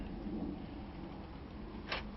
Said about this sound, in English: It's typical British July rain.